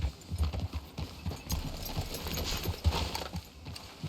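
Horse hooves clip-clop at a walking pace in Red Dead Redemption 2, a steady, fairly quiet series of thuds that carries on throughout.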